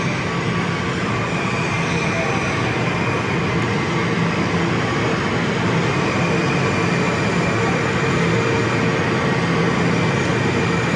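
Washington D.C. metro train carrying passengers, a steady broadband rumble of wheels and car noise filling the whole stretch, constant and fairly loud with no clear pauses.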